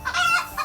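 A single chicken gives a short, close, clear cluck.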